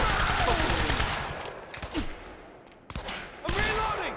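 Automatic gunfire in the shooter game Battlefield Hardline, set in an industrial area: loud, dense bursts of shots at the start and again near the end, with shorter volleys and sharp ricochets between them.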